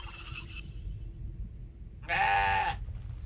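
A single bleat from a goat character in the video game CrossCode, a short, bright, nasal call near the end, heard over quiet background game music.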